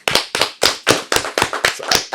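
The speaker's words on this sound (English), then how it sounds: "I think I have to clap for myself too." An audience applauds a guest, Ayodeji Razaq, as he is welcomed at an awards talk event, heard as a rhythmic run of sharp claps in bursts, close and loud, with no talking.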